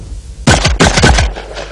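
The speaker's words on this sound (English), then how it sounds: "see how fast this Benelli can shoot" A Benelli shotgun fired rapidly at clay targets, three loud, close blasts in quick succession within under a second, each followed by a short echoing decay, with no talking.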